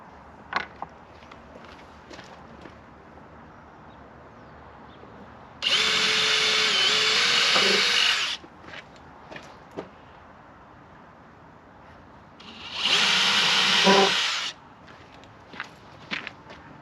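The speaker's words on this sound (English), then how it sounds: "Drilled the sawhorse." A power drill bores into a wooden sawhorse in two sustained whirring bursts of a few seconds each, close and loud, with scattered footsteps and knocks between them.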